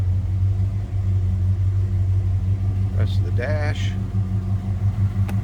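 A 1965 Oldsmobile Cutlass convertible's 330 V8 with a newer dual exhaust, idling as a steady low rumble close by under a brief spoken remark.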